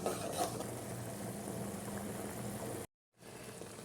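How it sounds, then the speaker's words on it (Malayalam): Water boiling in a pot with macaroni, a steady close bubbling hiss that cuts out briefly near the end and then resumes. "വെള്ളം തിളച്ചപ്പോൾ മക്രോണി ഇട്ട് കൊടുത്തിട്ടുണ്ട്."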